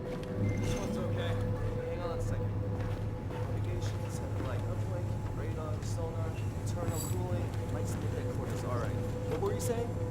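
Warship diesel engines in the Battlefield 4 video game hum steadily with a low, constant drone beneath continuous spoken dialogue.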